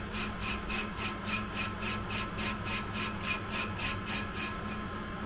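Lathe machining of a Brembo brake part to trim down its outside diameter, a steady rhythmic rasping scrape pulsing about twice a second, close and continuous with a low motor hum beneath.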